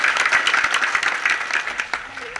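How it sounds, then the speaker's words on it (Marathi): An audience applauds a mridang player at a devotional kirtan gathering, dense steady clapping from a nearby crowd that thins slightly toward the end. "जोरदार टाळ्या वाजवा"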